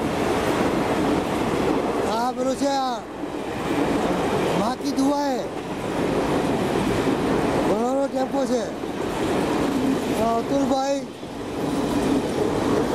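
A passenger train on the Surat to Ahmedabad line arrives on a morning run, its loud, steady rail rumble filling the whole scene while several people talk over it.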